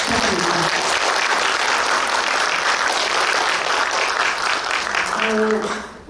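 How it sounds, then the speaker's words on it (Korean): Sustained audience applause at a regional private daycare association conference in Suncheon, South Korea, a dense steady clapping from a full room that swells and runs for several seconds before tapering off. "다시 한번 박수 부탁드립니다"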